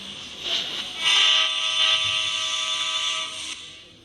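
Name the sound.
train moving in a video game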